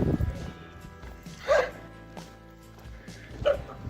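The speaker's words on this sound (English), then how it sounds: "Look at that little cute dog." A small puppy in an Armenian village gives two short, high yips a couple of seconds apart, faint and somewhat distant over quiet background noise.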